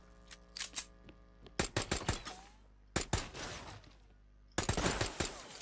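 Pistol fire in the battle royale game Radical Heights: several bursts of rapid sharp shots, close and loud, separated by short pauses, with a final burst near the end and no talk over it.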